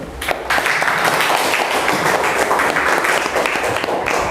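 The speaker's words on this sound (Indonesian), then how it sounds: "Tepuk tangan untuk teman kita yang sudah menjawab kuis virtual." A classroom of students claps for a classmate after a virtual quiz, loud and sustained close-up applause with scattered voices mixed in.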